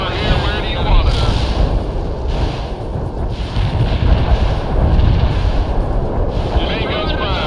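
Heavy artillery firing in the World in Conflict video game: continuous deep booming and rumbling with repeated blasts, loud and sustained, with faint voices mixed in.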